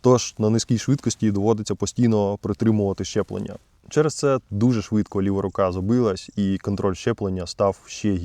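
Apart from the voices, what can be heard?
None of the usual background noises is heard.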